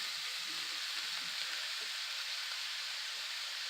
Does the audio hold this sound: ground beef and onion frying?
yes